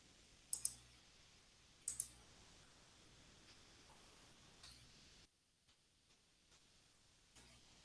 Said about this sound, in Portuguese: Teste teclado.